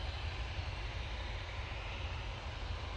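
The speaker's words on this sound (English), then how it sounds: "this Bombardier Global is going now" A Bombardier Global business jet departs with a faint, steady distant engine rumble, low and even throughout.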